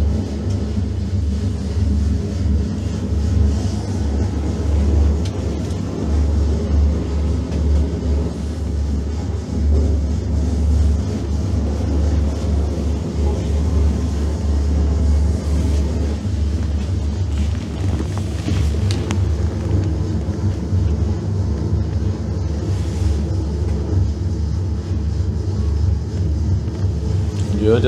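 Diesel engines aboard Soviet submarine U-434 in Hamburg: a steady low rumble drones continuously in the background, heavy and even throughout, with faint mechanical clatter over it.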